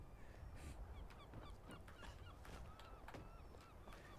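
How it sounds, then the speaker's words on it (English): Gulls call in the background of a coastal area in the video game Skyrim, repeated honking cries at mid-distance, faint and scattered over a low steady ambience, with no talking. "You hear the gulls in the background there"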